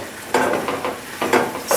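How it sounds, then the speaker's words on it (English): Agave syrup darkening into a caramel sauce in a pan is stirred in short bursts, a few close scraping strokes over a soft bubbling sizzle. "So we have to keep stirring and stirring and stirring, and it's going to get darker and darker."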